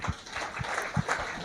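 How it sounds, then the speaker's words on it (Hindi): Applause from an audience at an Eid-e-Milad award ceremony, with a steady wash of clapping and a few louder bursts standing out over the crowd noise. "जोरदार तालियां होनी चाहिए दोस्तों."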